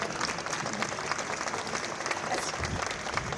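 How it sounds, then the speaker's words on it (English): Audience applause at a topping-off ceremony for a new veterans' home, a steady wash of many hands clapping at moderate distance, with a brief low voice near the end. "you can clap for this too"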